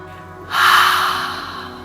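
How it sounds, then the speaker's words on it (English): A single deep breath, quietly drawn in and then released as a long, audible out-breath that swells and slowly fades, close and alone during a qigong exercise. "We take in a deep breath, hold for a couple of moments, and then as you breathe out, you're going to breathe out the sound."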